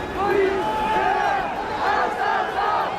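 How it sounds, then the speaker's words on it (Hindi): A large crowd of violent protesters in Paris roars and chants together, voices rising and falling in loud continuous waves close by. "ज्यादातर जगहों पर भीड़ ने हिंसक प्रदर्शन किए"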